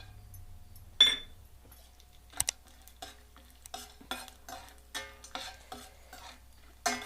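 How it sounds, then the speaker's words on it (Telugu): Cashews and almonds being fried in ghee, quiet and close, with a faint sizzle under a series of light spoon clicks and taps against the pan spaced about half a second apart. "ముందు ఒక 2 స్పూన్లు నెయ్యి, ఎందుకంటే ఇవి పప్పులు వేయించుకోవడానికి. జీడిపప్పు, బాదం పప్పు వేస్తున్నానండి."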